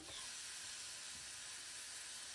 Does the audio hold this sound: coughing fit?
no